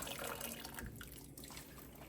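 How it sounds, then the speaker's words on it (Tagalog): A pot of water returns to a boil on the stove, giving a faint, steady bubbling and hiss that is low and close with no talk. "Ayan, kumulo na siya ulit."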